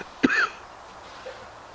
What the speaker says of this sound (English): Mommy had a cough.